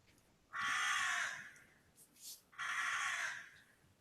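Two long, harsh crow caws ring out from some distance, separated by a brief pause with a softer call between them.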